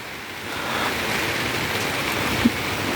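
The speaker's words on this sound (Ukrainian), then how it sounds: "Сьогодні на вулиці дощ падає." Steady rain falls outdoors near a greenhouse where green onions grow, a continuous broadband hiss at moderate level with no voices over it.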